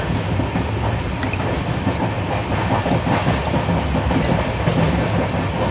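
A Repalle to Secunderabad passenger train runs along the rails with a steady, close rumble and a continuous clatter of wheels, loud and unbroken, with no voices.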